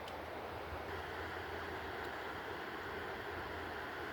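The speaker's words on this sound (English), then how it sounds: "Love listening to the water." Mountain river water rushes steadily at a fly fishing spot, a continuous broad wash of flowing current heard close and constant with no talk.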